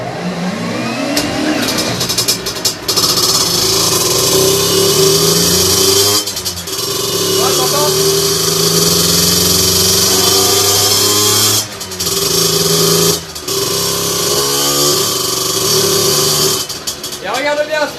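A small motorbike engine with a 17.5mm carburettor runs steadily and loud while cold, idling with a rough mid-pitched drone and occasional brief revs, with talking over it.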